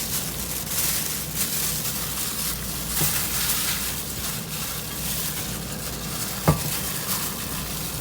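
Herb stuffing for steamed tilapia being mixed by hand, a soft continuous rustling and stirring close by with a couple of sharp clinks of a utensil against a dish.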